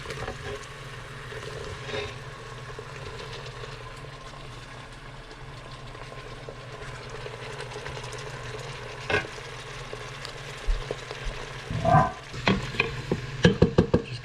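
Peppers and onion sauté in a pan at about 350 degrees with a steady close sizzle. Irregular clanks and scrapes of stirring pick up toward the end.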